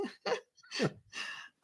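A coughing fit: several sharp, hoarse coughs in quick succession, close and fairly quiet, with short gaps between bursts and no talk.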